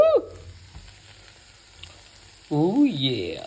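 Spring onion, garlic, Korean chili flakes and gochujang hit a hot pan with a brief sizzle at the start, then a quiet stretch before a voice comes in over the cooking.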